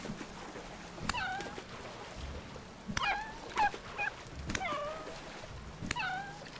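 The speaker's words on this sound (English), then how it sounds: "Why a full wolf pack?" Wolves and wolf pups in the game Vintage Story give repeated high whining yelps, four or five separate cries spaced a second or so apart over a low background hiss.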